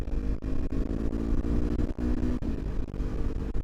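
Yamaha R3 motorcycle engine while riding on the street, a loud, steady close drone with brief dips between gear shifts, filling the whole stretch with no talk.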